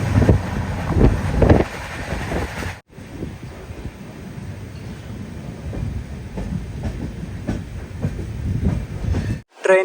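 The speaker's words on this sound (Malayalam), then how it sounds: "ട്രെയിൻ ഇപ്പം മധുക്കര റെയിൽവേ സ്റ്റേഷനിലെത്തി" A sleeper-class coach on the Bilaspur to Ernakulam weekly express rolls into Madhukkarai railway station, with a steady rumble and clickety-clack of wheels on rails and wind buffeting that eases then swells.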